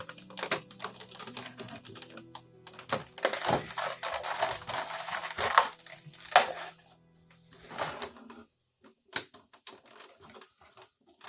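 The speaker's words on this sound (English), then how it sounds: "I apologize for this horrible plastic scratchy sound" Scratchy plastic packaging crinkles and rustles while being pulled off a Kingdoms of Amalur Re-Reckoning collector's edition during unboxing, in irregular close bursts with brief pauses between.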